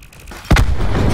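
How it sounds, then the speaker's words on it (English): A sudden booming grenade explosion in the Black Ops 4 video game, played on a gaming PC, a single sharp blast that hits hard and rolls into a rumbling tail. "Accidental grenade, sorry!"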